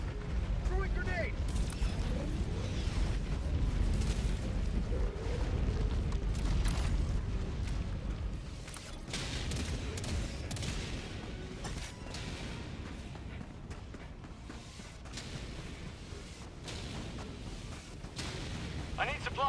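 Heavy orbital strike explosions boom in a Helldivers 2 battle, a dense run of blasts and rumbling impacts early on, then more scattered crackling detonations and gunfire; voices speak over parts of it.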